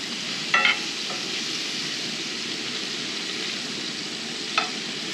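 Onions with Dano spicy seasoning frying on a camp stove while camping in a truck, a constant loud broadband sizzle with a couple of brief utensil clicks near the start and end.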